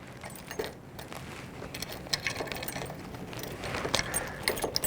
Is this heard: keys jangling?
yes